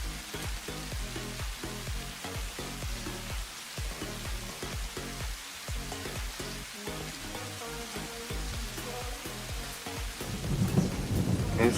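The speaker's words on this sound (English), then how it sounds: "We've got thunderstorm, lightning." A thunderstorm in the video game Satisfactory: steady rain hiss with rolling rumbles of thunder, swelling louder near the end, with no talking.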